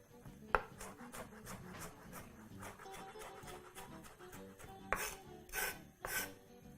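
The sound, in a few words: chopping onion on a cutting board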